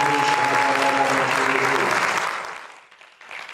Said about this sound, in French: Et donnons une puissante offrande d'acclamation à Jésus.